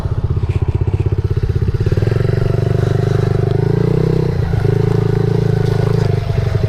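A Suzuki DRZ 70 small dirt bike runs at close range with a loud, buzzy single-cylinder drone and a rapid pulsing idle that rises into a steadier, higher-revving tone as it pulls away, wind rustling over the microphone.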